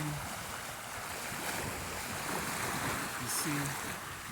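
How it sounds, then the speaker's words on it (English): Ocean waves at the beach on Panglao island, a continuous broad wash of surf blended with wind rumble against the microphone, fairly faint and steady, with brief hints of voices. "I just came from the beach water, and this is how it looks like here"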